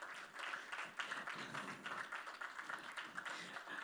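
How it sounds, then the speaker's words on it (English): An audience at a tech business conference applauds, a soft, fairly distant patter of clapping that rises and falls unevenly with some faint voices mixed in. "Please, a round of applause for him."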